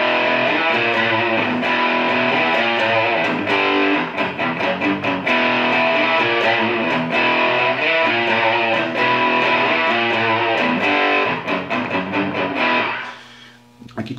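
Heavy distorted electric guitar riff in a Metallica style, played through a Boss Super Overdrive pedal; dense, loud and continuous chugging power chords for most of the clip, stopping abruptly near the end.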